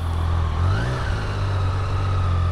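Triumph Street Triple motorcycle engine running steadily on the Isle of Man TT course, a loud continuous low drone with a brief rise in pitch as it revs, close and alone.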